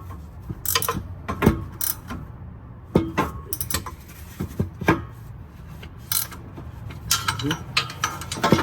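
A ratchet tightens transmission mount bolts on a Cadillac CTS-V, giving bursts of sharp clicking strokes in an irregular rhythm, close and fairly loud, with short pauses between sets.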